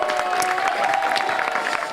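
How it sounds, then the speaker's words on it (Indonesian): A comedy-show audience claps and cheers for a stand-up comic at a league stand-up event, with dense, steady applause and crowd noise running loud throughout the short stretch. "Tepuk tangan dong, gokil"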